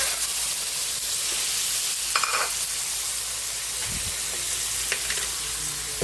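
Squid sautéing in a pan with garlic, onion and tomato, a loud continuous sizzle and hiss with occasional scraping and clinking from stirring.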